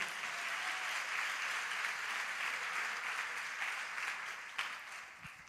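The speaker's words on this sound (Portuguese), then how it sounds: "Vamos aplaudir o Senhor pela vida dele." A church congregation applauding together, a steady broad wash of clapping that holds evenly throughout before thinning slightly near the end.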